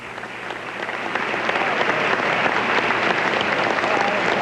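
A large chamber audience in the U.S. Capitol bursts into sustained applause after a presidential State of the Union speech in 1992, a dense roar of clapping that swells and holds steady.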